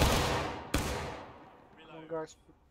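A musket volley from an infantry company in War of Rights, a loud crackling blast that rolls away, then a second sharp shot, followed by a brief voice as the echo fades.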